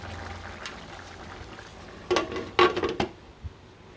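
A low, steady bubbling simmer from a pot of kilawing Kapampangan broth, with a few sharp clinks of metal utensils against cookware near the end.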